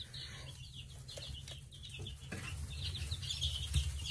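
Nine-day-old chicks and ducklings peep with high, thin chirps scattered over a low rumbling background, faint and continuous, with brief flutters; no one talks.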